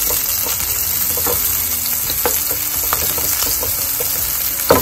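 Onions frying and browning in a pan, a loud continuous close sizzle with occasional stirring clicks and a brief knock at the end, no talk.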